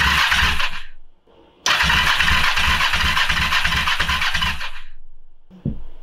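A Kawasaki Ninja 500R engine cranks over during a compression test, loud and close in two long starter runs with a rhythmic chugging pulse and a short pause between them.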